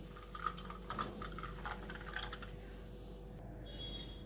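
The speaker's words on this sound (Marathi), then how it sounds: "आता ह्याच्यामध्ये घालूया पाणी" Water trickles and splashes into a glass of tamarind drink concentrate for a couple of seconds, with small drips, then a quiet room hum remains.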